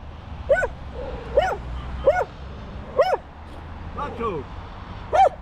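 A dog whines and yelps beside a man lying in a roadside ditch, with six rising, drawn-out cries at a steady pace close to the microphone. Low background rumble runs throughout.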